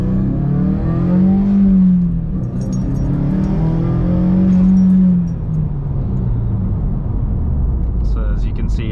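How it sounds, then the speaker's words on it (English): 2018 Subaru WRX on a Stage 2 Plus map accelerating at wide open throttle, heard from inside the car as a rising engine drone that swells twice and fades, with speech over it. "it gets a little bit louder when you kind of go wide open throttle"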